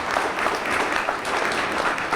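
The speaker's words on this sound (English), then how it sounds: "give them a big round of applause" An audience at an arts internship launch event breaks into steady applause, a dense, continuous clapping that stays fairly loud throughout.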